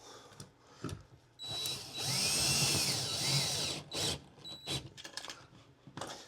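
A power drill drives bolts to reattach straps to an RV wall, whining in a loud, close burst of about two and a half seconds, then a few shorter spurts, with clunks and handling noise between.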